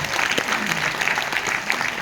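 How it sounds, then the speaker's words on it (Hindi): An audience at a Hindi poetry gathering breaks into steady, close applause, a continuous wash of clapping from many hands for about two seconds. "और कहीं होते तो हाथ ऊपर करके ताली बजा देते आप"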